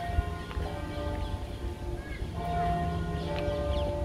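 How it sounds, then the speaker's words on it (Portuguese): A church bell at the Basílica da Estrela in Lisbon tolls the hour at four in the afternoon, faint and distant, its ringing tones buried under outdoor park ambience and low street noise. "Não sei se dá pra ouvir o sino da igreja. 4 badaladas agora."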